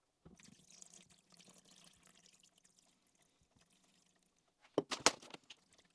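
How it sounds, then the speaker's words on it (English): Water poured into a film developing tank for a quick rinse between developer and fixer, a faint trickling pour at first, then a brief louder splashing burst near the end. "Now I'll just put a bit of water through. Just give it a quick rinse between developer and fixer."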